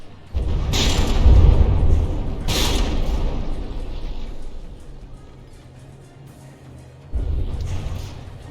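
Heavy naval gunfire from battleships in From the Depths, deep booming blasts at roughly one, two and a half and seven seconds, each rolling off into a low rumble, with no speech.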